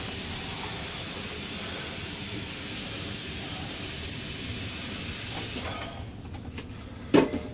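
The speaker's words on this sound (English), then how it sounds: "let's get a pan full of water." Tap water running steadily into a pan for a boiling test, a loud continuous hissing rush that stops near the end, followed by a few brief clunks of the pan.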